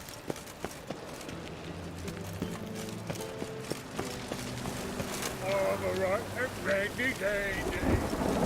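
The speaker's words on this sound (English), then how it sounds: "I like rain." Rain and rolling thunder from The Witcher 3 game, a steady wash with low rumbles, joined by game music and other ambient layers that swell louder toward the end.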